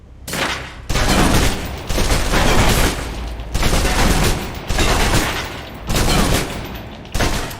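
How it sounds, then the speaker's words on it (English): Submachine gun in the video game Alpha Protocol emptying a full magazine: loud, dense automatic bursts repeating about every second, each a rapid rattling stream of shots separated by brief gaps, with no talk. "Now, let's move on to the submachine gun. Now let's empty the clip."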